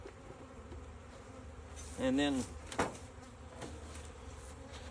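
Honey bees buzz steadily around a hive being checked before winter, with a sugar-water feeder set out; the faint, continuous hum runs throughout while someone speaks briefly partway through.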